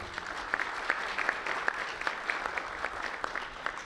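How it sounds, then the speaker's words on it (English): Attendees at a county community conversation applaud, a fairly soft, even patter of many hands that carries on steadily without pause, heard from some distance. "Give us yourself a round of applause"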